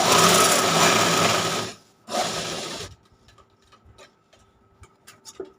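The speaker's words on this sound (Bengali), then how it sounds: "একটু করে সেলাই দিয়ে দেবে যাতে সরে না যায়" Sewing machine stitching fabric, a loud fast whirring run that stops briefly, starts again and then gives way to quiet ticks and clicks of the mechanism, with no talk.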